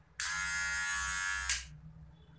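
A Kemei 2600 electric hair clipper buzzes loudly, steadily and somewhat roughly for over a second, then cuts off, leaving quiet room hum.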